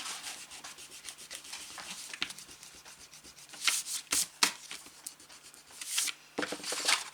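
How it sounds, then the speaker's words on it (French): Pencil marks rubbed out with an eraser on paper, soft scratchy rubbing strokes that grow louder and busier in short bursts toward the end, close and alone. "Je vais gommer ça."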